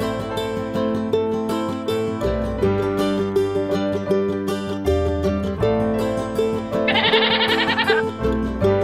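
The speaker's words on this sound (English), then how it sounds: "Goat." A goat bleats over a steady music backing, its wavering call rising briefly near the end and standing out clearly above the tune, with no talking.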